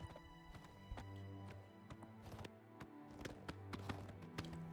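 Horse hooves galloping in the video game Oblivion Remastered, a steady run of hoof clops over a constant low hum and music, with some footfalls louder and closer than others.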